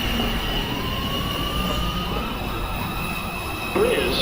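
A New York City subway train approaches a station platform, a steady loud rumble of wheels with a thin rising whine and a brief squeal near the end, with no talk over it.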